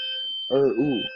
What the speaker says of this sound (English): the fire alarm goes off a lot here